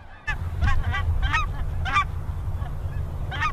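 Geese honk during a goose hunt, a flock calling in repeated loud, nasal honks at fairly close range, in bursts with brief gaps over steady outdoor background noise, and no talk.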